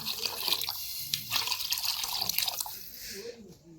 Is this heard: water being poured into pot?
yes